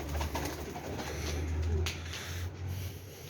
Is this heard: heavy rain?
no